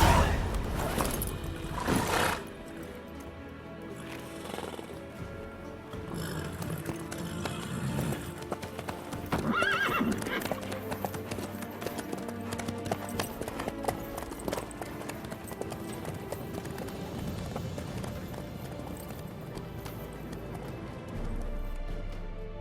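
Horse hooves clip-clop at a steady trotting rhythm in The Witcher 3 video game, layered under game music and ambience, with a few louder thuds early on.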